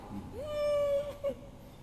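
A human voice imitates a cat's meow: one drawn-out mewing tone followed by a shorter second note, fairly close and quiet, alone without other talk.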